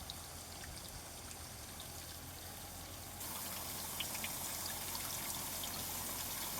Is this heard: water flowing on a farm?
yes